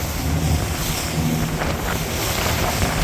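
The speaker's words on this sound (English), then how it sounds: "And we got waves." Waves wash around a boat at sea off Panama under incoming rain, a constant churning hiss with heavy wind buffeting the microphone throughout.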